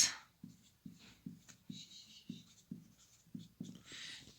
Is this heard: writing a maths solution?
yes